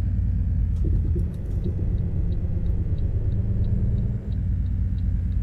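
A Volvo FH16 truck engine in Euro Truck Simulator 2 drones steadily and low, a continuous rumble with faint ticking above it and no talk.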